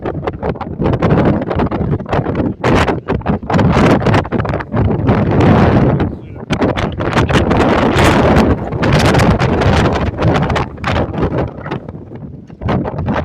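Strong gusts of wind on the Karakoram Highway in Pakistan buffet and roar against the microphone in uneven bursts, loud and close, with no voices.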